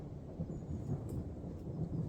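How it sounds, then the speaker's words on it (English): Low rumbling thunder from an approaching thunderstorm rolls faintly in the distance near an outdoor barbecue, a soft continuous grumble with a slight patter of rain. "Yeah, the thunderstorm is coming."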